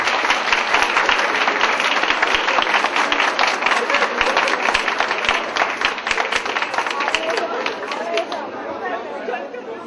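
An audience claps steadily at a village association evening for Büyükgümüşlü in 2012, a dense, loud wash of applause mixed with crowd chatter that fades slightly toward the end.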